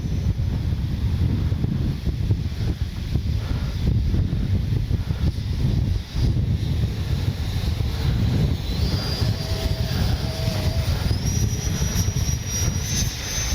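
A 50mm EDF radio-controlled BAE Hawk jet at half throttle, a steady whooshing fan whine mixed with heavy wind buffeting on the microphone, with a faint rising tone near the end.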